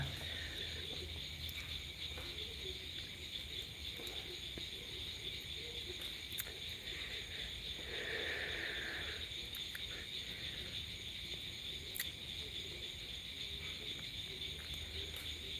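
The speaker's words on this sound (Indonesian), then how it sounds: "Cuman suara kodok doang sama jangkrik cuy." A constant high chirring of crickets fills a quiet rural night in Ponorogo, Indonesia, with faint croaking frogs underneath and no other sounds nearby.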